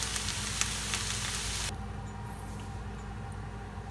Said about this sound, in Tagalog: wag po natin gigisa ng matagal para crunchy pa rin po ang sibuyas